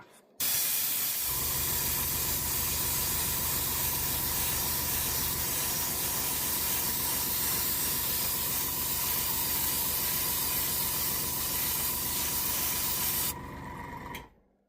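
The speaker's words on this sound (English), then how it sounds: "We're going to start by running some of this through the airbrush." An airbrush sprays Rust Grey paint over a model kit, a loud, steady close hiss that runs almost unbroken for over ten seconds before tailing off.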